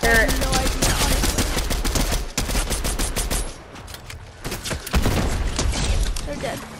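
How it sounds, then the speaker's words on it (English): Video game gunfire in a multiplayer match: bursts of rapid shots and sharp cracks, loud and close, briefly easing before another volley, with players talking over the shooting. "Hey, someone's shooting."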